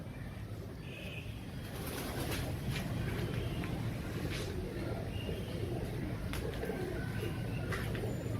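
Pigeons coo softly amid a busy outdoor background hum, with a few scattered bird calls rising over the steady noise.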